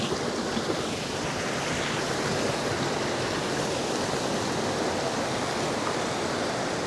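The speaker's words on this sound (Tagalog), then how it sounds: "Ganda ng agos ng tubig." River water rushes over rocks below Paliguang Aso Dam in Bailen, Cavite, a constant, loud, broadband roar that holds steady throughout with no voices.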